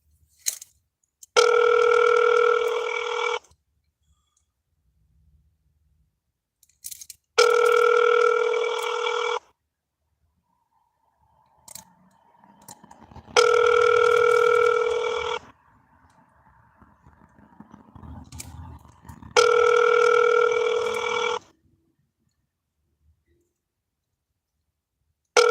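Phone ringback tone on a call to the 211 helpline, four evenly spaced two-second rings with long silent gaps between them, loud and clear, with faint low rustling in the gaps and no talking.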